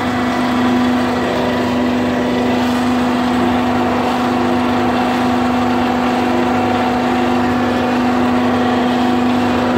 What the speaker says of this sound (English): and here it is the big engine.